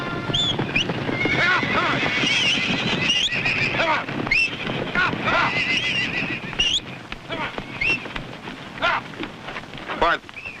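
Horses at a ranch corral neigh and whinny repeatedly, with loud, rising calls scattered across a background of hoof clatter and rain-like noise, and voices speak in between.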